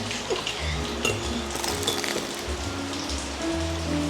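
Rain falling in Hongdae, a steady patter on surfaces mixed with clinks and drips close by.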